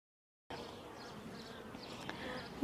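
Honey bees hum steadily in an opened hive, a dense continuous buzz close by that starts abruptly and holds evenly throughout, with no voices.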